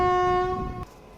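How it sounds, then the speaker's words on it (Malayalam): A train passing close by at a railway line beside a stream, heading toward Trivandrum, with a loud sustained horn tone over low rumbling rolling noise that cuts off sharply near the end. "ഇത് ട്രിവാൻഡ്രം സൈഡിലേക്ക് പോകുന്ന ട്രെയിനാണ്."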